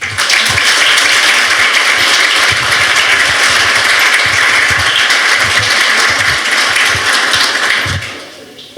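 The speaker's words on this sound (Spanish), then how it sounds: "Nuevamente le damos un fuerte aplauso." An audience at a talk on Spanish immigration in Sáenz Peña gives the speakers a strong round of applause, dense continuous clapping at full level that fades at the end.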